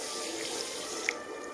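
Water is poured from a tap onto millet grains to soak them, a steady soft splashing stream with a faint drip-like plink near the end.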